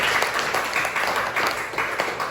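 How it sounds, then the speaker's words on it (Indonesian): Applause from a class of students in a school computer lab, a dense steady patter of many hands clapping close by for a couple of seconds. "Oke, tepuk tangan dulu."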